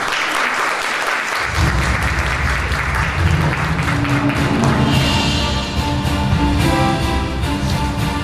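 Audience applause at a Nexon Mabinogi 2: Arena game reveal event, welcoming a studio director onto the stage; loud, dense clapping swells in after a brief moment and continues steadily, with a musical stage sting beneath it.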